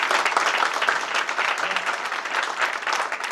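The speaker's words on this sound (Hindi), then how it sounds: "तो इन चारों के लिए जोरदार ताली बजनी चाहिए।" A corporate event audience claps loudly for four honored people, a continuous thick wash of hands clapping without pause, crowd-wide and close.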